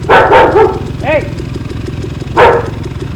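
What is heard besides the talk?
dog barking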